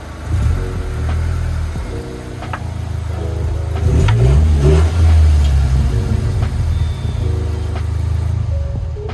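A 10th-generation Honda Civic Si on its stock exhaust idles and then revs several times, with a sharp climb in the middle and a few shorter blips, all loud and close.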